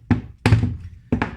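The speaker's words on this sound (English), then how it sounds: "I'm going to give it a couple of taps with a wooden hammer" A wooden hammer taps a wooden dowel three times during lube sizer maintenance, each a close, dull thunk with a short decay, the last two struck in quick succession.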